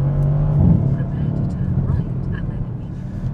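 2017 Mercedes-Benz C-Class driving on a road, a low steady engine and road hum from inside the cabin while someone talks over it.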